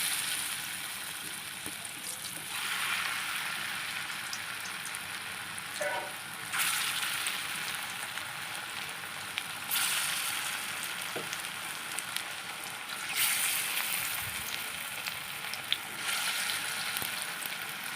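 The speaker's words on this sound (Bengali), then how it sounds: "এভাবে এগুলো ভেজে দেবো বড়াগুলো কি সুন্দর ভাজা হয়েছে দেখো" Bottle gourd fritters frying in hot oil in a kadai, a soft continuous crackling sizzle that swells and eases over time, with occasional small clinks and no talking.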